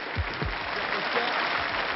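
Audience applause on a French television variety show, a steady dense wash of clapping heard from a distance at an even level and muffled in tone, with a few low thumps near the start.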